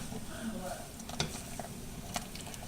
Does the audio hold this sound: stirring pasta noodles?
yes